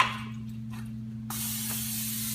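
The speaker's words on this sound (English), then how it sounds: "I'm just using olive oil cooking spray" Olive oil cooking spray is sprayed onto a hot waffle iron during red velvet waffle making, a steady close hiss that begins partway in and continues to the end over a constant low appliance hum.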